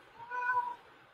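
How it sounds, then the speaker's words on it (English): A pet cat gives one loud, drawn-out meow lasting about half a second, close and clear against quiet surroundings. "he never meows that loud"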